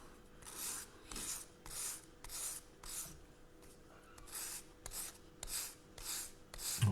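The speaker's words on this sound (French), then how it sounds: "quand on ponce à l'extérieur, vu qu'on est en dehors de l'arrondi" Small, thin, fragile wooden parts of a 1/64 scale model of the ship Hermione are sanded by hand, about ten rhythmic, close rasping strokes with brief pauses between them.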